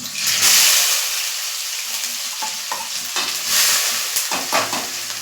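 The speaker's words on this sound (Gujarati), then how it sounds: "અહીંયા બે નંગ ડુંગળી છે જે મેં ઝીણી સમારેલી છે તે એડ કરીશ" Finely chopped onions hit garlic frying golden in a pan, setting off a loud, close crackling sizzle with stirring and spatula scrapes throughout.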